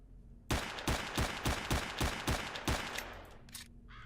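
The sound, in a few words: gunfire in the video game Stalker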